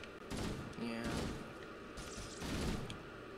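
Bursts of gunfire in the video game Halo, rapid automatic volleys and thuds in a chaotic firefight, moderately loud, with a player's voice speaking over the shooting.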